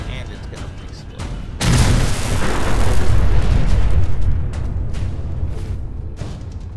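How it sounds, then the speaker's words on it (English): A loud explosion in the video game Fallout 4 erupts suddenly as a deep boom, followed by several seconds of sustained rumbling debris and roar that slowly fades, with faint game sounds before it. "And it's gonna explode."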